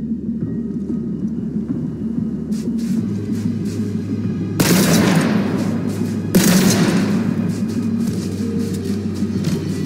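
Gunfire aimed at a weapon shed in the video game Borderlands 3: two heavy, loud blasts or bursts stand out over a steady rumbling game backdrop, with no talk.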